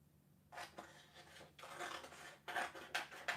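Scissors snip through paper while clouds are cut out for scrapbooking, several short rasping cuts in bursts with brief pauses between, quiet and close.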